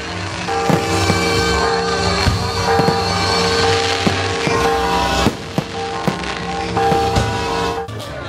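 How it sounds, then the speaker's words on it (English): A big fireworks display bursting beside a cathedral during a Mazatlán night celebration, with dense overlapping crackles and sharp pops firing steadily and loudly throughout, no voices. "Then, a terrific fireworks display starts next to the cathedral."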